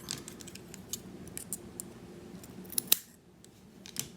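Scissors snipping cotton wick for a vape RBA build, a few light close-up clicks leading to one sharp, louder cut, then near silence.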